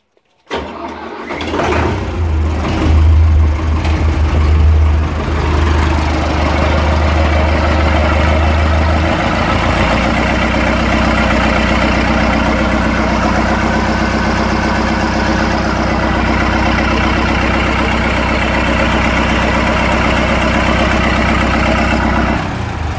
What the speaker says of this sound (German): ich schmeiße den Trecker mal eben an und dann könnt ihr es auch mal sehen